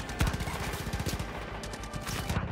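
Rapid automatic gunfire rattles in Far Cry 5, a fast string of punchy shots that runs almost without a break at moderate loudness, with a few louder cracks near the start.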